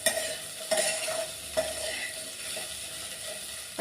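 Finely chopped okra stir-frying in a pan, soft steady sizzling punctuated by several sharp scrapes and clinks of a utensil stirring, close and fairly quiet.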